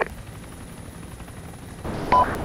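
Helicopter noise from a military airborne insertion exercise, a steady rotor and engine roar that swells louder near the end, heard alone without speech.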